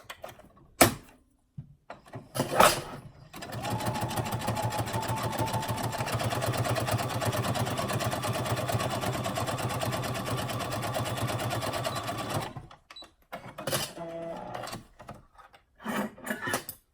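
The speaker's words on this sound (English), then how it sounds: "we'll stitch that together with a 3/8 inch seam allowance" Sewing machine running steadily for about nine seconds as it stitches four stacked fabric layers (frame lining and band lining) with a 3/8 inch seam allowance, with a few short clicks and handling noises before and after.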